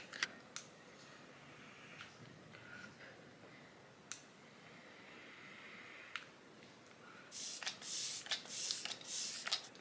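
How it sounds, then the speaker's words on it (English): Cosmetic spray mist from a bottle during a makeup session, several short loud hissing bursts clustered near the end, after a quiet stretch with a few faint clicks. "Oh fuck, I wasn't supposed to spray my eyes."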